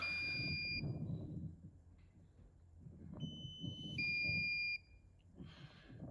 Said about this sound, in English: that's my low battery warning beeping